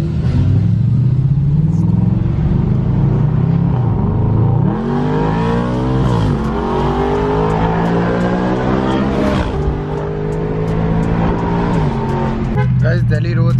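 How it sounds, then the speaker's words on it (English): Powerful cars including a Mercedes E63, Porsche 911, G-Wagon and a Wagon R rev and accelerate on a Delhi road at night, a loud, continuous engine roar with rising and falling pitch sweeps up close, people talking over it. "Looks like an insane drag race is going to happen with the E63 911 and the G-Wagon and the"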